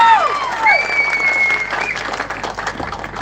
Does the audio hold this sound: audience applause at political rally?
yes